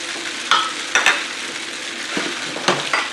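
Sweet potato vermicelli stir-fried with green onion and bacon in a hot pan, a steady loud sizzle broken by several quick scraping tosses of the spatula, close up with no talking.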